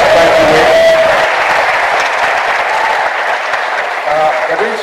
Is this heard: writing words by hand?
no